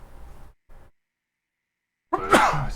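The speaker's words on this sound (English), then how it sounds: "I have to sneeze." A single sharp human sneeze bursts in loudly and close after a brief quiet pause, preceded by faint soft breathing or murmur.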